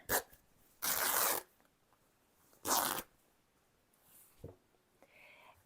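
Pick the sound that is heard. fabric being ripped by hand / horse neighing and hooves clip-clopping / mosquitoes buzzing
fabric being ripped by hand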